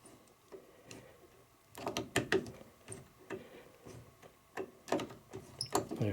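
A screw turns out of a loose hinge plate on a door, giving a series of small close ticks and creaky clicks in an irregular rhythm, quiet and close.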